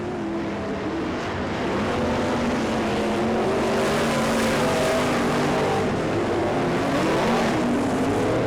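Race cars roaring around an oval track during a heat race: a steady, loud wall of engine noise with overlapping revving tones as the field passes, continuous throughout with no voices.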